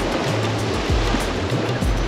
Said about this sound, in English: That wave crashing the seawall.